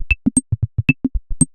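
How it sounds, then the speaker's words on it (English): A programmed MIDI drum pattern of punchy kicks, snappy snares and crisp hi-hat ticks in a steady, tight rhythm, loud and dry with nothing else playing. "So the kick, the snare and the hats in MIDI land sound like this."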